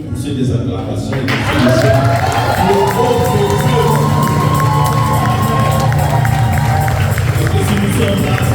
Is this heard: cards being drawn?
no